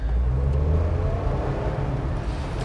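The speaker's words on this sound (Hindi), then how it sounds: "तो चलिए दोस्तों चला कर देखते हैं ऑल्टो K10 को कि चलाने के मामले में कैसी है।" Maruti Suzuki Alto K10 VXi+ with a manual gearbox, heard from inside while driving: a steady, low engine rumble and road hum that holds at an even level throughout, with no one talking.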